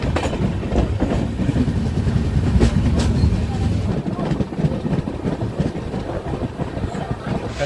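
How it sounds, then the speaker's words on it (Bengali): A passenger train on a rail route in West Bengal gives a loud, continuous rumble of wheels and carriages rolling over the rails, with a low engine drone and occasional clanks. "144 কিলোমিটার কভার করে আমাদের ট্রেন এখন পৌঁছে গেছে হচ্ছে শালবনী"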